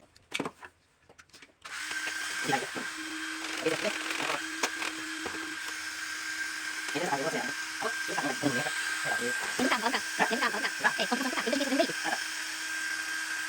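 A hair dryer whirs steadily with a high motor whine, close by, while a person talks over it.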